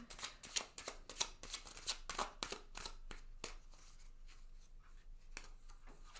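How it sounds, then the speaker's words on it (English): Oracle of Mystical Moments cards are shuffled close up in a quiet room, a quick run of crisp riffling flutters for about three seconds, then slower, softer slides and taps as a card is drawn. "I'm going to pull one of the Oracle of Mystical Moments cards for you just to finish off your reading"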